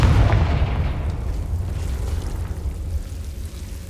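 A Confringo fire spell bursts in a Hogwarts video game with a heavy booming blast that rolls off into a long, rumbling decay.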